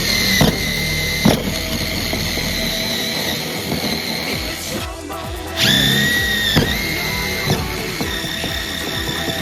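A power drill bores holes in a yoke collar for training livestock guardian dogs, with a steady whining buzz broken by several short pauses and restarts, loud and close, with no talking.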